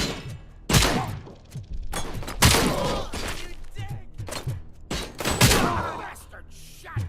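Heavy gunfire from the video game RoboCop: Rogue City comes in several loud, booming bursts of shots and impacts, with a character's voice heard between them.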